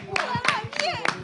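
A small audience at a French variety show claps in a few loose bursts while a host's voice carries over the top, the applause thin and uneven rather than a full ovation.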